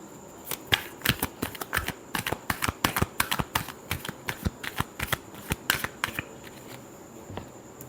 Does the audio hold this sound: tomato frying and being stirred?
no